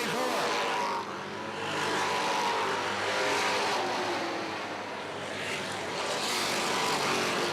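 Race cars roaring side by side around the oval at Airborne Speedway, engines swelling and fading as they pass close by, with a race announcer talking over the sustained motor noise.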